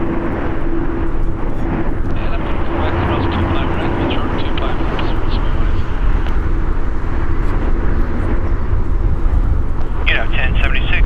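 A LATAM Boeing 767ER jet taxiing at LAX produces a loud, steady broadband roar with a constant engine whine, heard nearby and continuous, with a short higher-pitched tone near the end.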